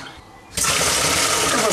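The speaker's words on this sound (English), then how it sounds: "Put some water in that rice pot and stir it and wash it" Water pours into a rice pot to wash the rice, starting after a quieter moment and becoming a loud, steady, broad rush close by that continues to the end.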